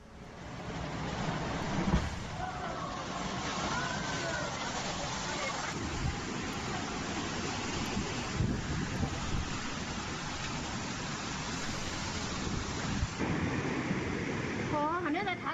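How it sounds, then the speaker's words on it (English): Roaring typhoon winds of about 120 miles per hour lash the shore as massive waves crash over seawalls, making a dense, continuous storm roar with surging gusts throughout. "Those who stayed behind recorded as 120-mile-per-hour winds lashed the shores and massive waves crashed over the seawalls."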